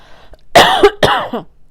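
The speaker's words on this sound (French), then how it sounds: "je tousse dans le micro, c'est pas agréable." Two loud, harsh coughs right up close into a microphone, the second followed by a brief rough throat sound, with quiet before them.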